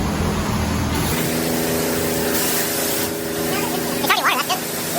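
High-pressure hose at a self-service car wash spraying water onto a car, a hissing rush that shifts as the spray moves across the body, with people chatting nearby.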